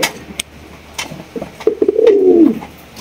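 Blue bar beauty pigeons coo at a bird seller's stall, one deep rolling coo building near the end after a few short calls and clicks, close and fairly loud.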